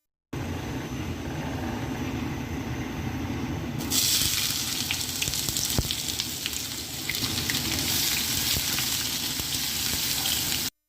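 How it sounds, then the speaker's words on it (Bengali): Low, quiet hiss of heating soybean oil suddenly bursts into loud, crackling sizzle as chopped onions hit the hot pan and keep frying steadily. "তেলটা একটু গরম হলে পেঁয়াজ কষি দিয়ে দিব"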